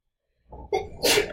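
A person sneezes once nearby during a classroom statistics lesson, a short building inhale followed by a sharp, loud burst that trails off, with no talking over it.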